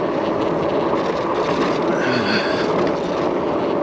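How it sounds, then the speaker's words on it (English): Heavy wind buffeting a microphone on a moving Aventon Aventure e-bike: a steady, loud broadband roar and rumble throughout, with no voices. "Here we are with heavy wind again"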